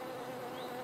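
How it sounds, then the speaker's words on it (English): Bees buzzing in a steady, close, continuous drone, unbroken throughout with no voices. "Bees are buzzy friends."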